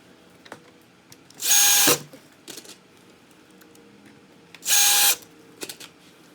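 A power drill whirs in two short bursts, each under a second, with light clicks and clatter in the quiet gaps between them.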